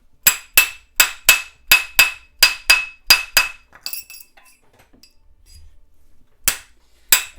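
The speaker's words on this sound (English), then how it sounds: "With this kind of hammer, you can use all the force you want. You won't scratch the ring." A hammer strikes a metal ring to shape it round during jewelry bending: a fast, even run of about a dozen bright, ringing clinks, a short pause with faint handling, then two more close, loud blows.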